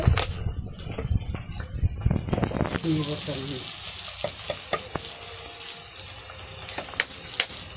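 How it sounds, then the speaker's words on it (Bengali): Onion and green chillies fry in oil for cooking kochur loti, sizzling and crackling with scattered clinks of stirring, while people talk nearby. "তো কচুরলতি রান্না করার জন্য তেল দিয়ে পেঁয়াজ কাঁচামরিচ দিয়ে দিচ্ছে"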